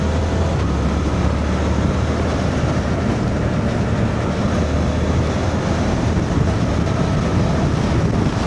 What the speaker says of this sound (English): Oh, strong side wind.